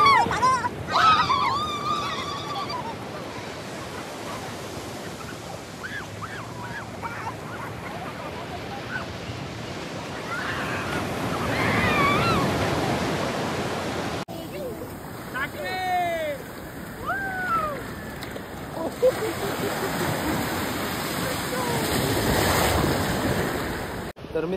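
Ocean waves and surf wash continuously on a Konkan beach, a broad steady roar with wind buffeting the microphone, while several people talk, shout and laugh over it throughout.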